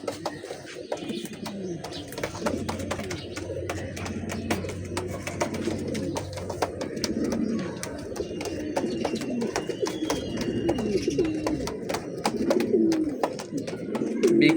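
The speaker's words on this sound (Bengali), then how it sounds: "বিগ সাইজের তোতা কবুতর।" A pair of big-size Tota pigeons coo in low, rolling bursts close by, scattered with frequent sharp clicks and taps of movement throughout, with no talking.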